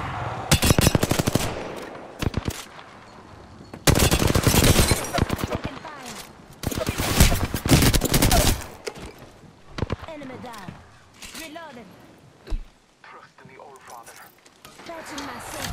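Rapid automatic gunfire from the video game Apex Legends comes in loud, dense bursts separated by short pauses, with quieter single shots and game effects in between.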